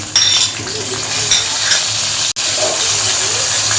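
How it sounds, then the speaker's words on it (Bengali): Onions fry in hot oil as dried shrimp goes in, making a loud, constant sizzle with stirring scrapes and a brief cut partway through. "পেঁয়াজ ভাজা ভাজা ওই গিয়ে এবার চিংড়ি শুটকি দিয়ে দিই"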